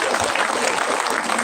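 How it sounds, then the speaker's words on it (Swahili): An audience at a gathering bursts into a short round of dense clapping, steady and fairly loud throughout. "mahai makofi."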